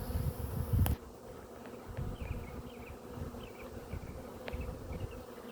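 A swarm of honeybees gathered in a ball on a tree limb hums steadily, a dense close buzzing with individual bees zipping past, after a brief louder thump at the start.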